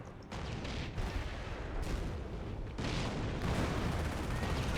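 Airburst artillery barrages pound a position in the Company of Heroes video game, a dense, continuous roar of booming blasts and crackling gunfire, loud and unbroken with no talk over it.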